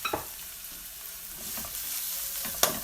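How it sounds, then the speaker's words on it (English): Ackee and saltfish with spring onions stirred in a pot, soft scraping strokes of the spoon over a gentle sizzle, with a sharper clink near the end. "just keep on mixing everything together"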